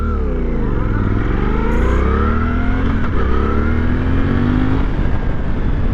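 A Suzuki V-Strom 800DE motorcycle engine revs loudly and climbs through several gears, pitch rising and dropping with each shift, close by and continuous.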